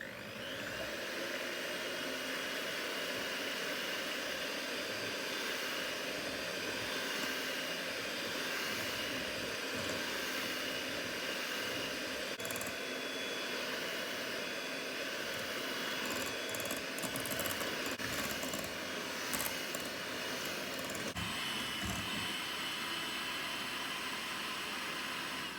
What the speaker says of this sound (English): I want to get in there with my mixer and start mixing it up.